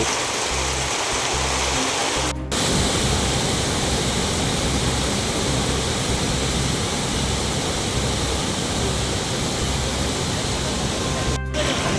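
Floodwater from torrential Western Ghats rain in the Malnad region rushes over a small, submerged bridge in a loud, continuous roar that fills the whole clip, close and unbroken, with no speech.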